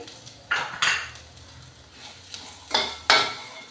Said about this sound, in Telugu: ముందుగా వేయించి పెట్టుకున్న జీడిపప్పు పల్లీలు ఇందులో వేసేసుకోవాలి కరివేపాకు కూడా వేసేసుకోవాలి